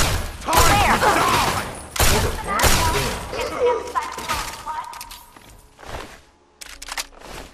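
Assault rifle gunfire in Fallout 3, several loud sharp bursts and impacts in quick succession with clatter and shattering, followed by sparser single shots as voices shout over the fight.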